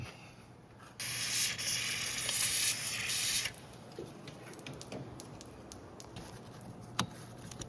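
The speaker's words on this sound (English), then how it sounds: "I'm gonna spray some more oil on there" A single sustained aerosol oil spray hisses for about two and a half seconds, close and loud, on a 2013 Kia Sorento rear brake, followed by quiet handling clicks and taps.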